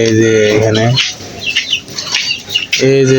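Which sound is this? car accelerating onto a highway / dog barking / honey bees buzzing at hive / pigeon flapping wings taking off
pigeon flapping wings taking off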